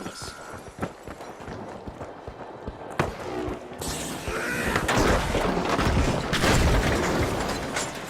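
A frag grenade is thrown and explodes in the video game The Finals: light clicks and movement give way to a sharp blast, then a loud, rumbling wash of explosion and debris that lingers.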